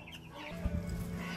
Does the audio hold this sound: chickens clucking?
yes